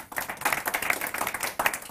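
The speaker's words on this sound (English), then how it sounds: "I think now we can start with a big applause to our speakers." Conference audience gives a brief round of applause for the speakers, a steady patter of many hands, fairly faint and distant, without talk.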